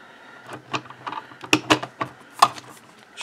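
Small screws being turned by hand into the metal base of an Intel NUC mini PC: a few close, sharp clicks and light ratcheting scrapes in short bursts over quiet room tone.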